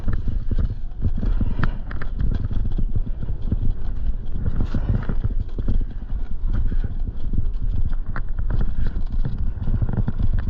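Horses walk along a trail near homes, their hooves clip-clopping in a steady irregular patter, close and prominent over outdoor background noise.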